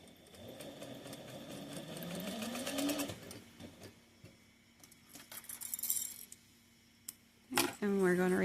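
Sewing machine stitching fabric on a sunglasses case with a zipper foot, a whirring run of rapid needle strokes that stops abruptly, followed by quiet handling clicks and a brief final burst of stitching.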